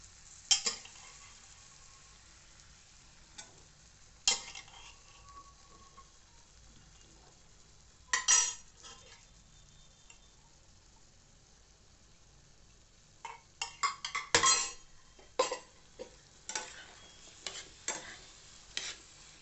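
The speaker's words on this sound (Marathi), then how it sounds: "आपण छोले घालून घेऊया." Chickpeas for chole bhature curry are tipped into a pan and stirred, giving scattered scraping and clattering bursts with a faint sizzle between them, fairly close and with no voices.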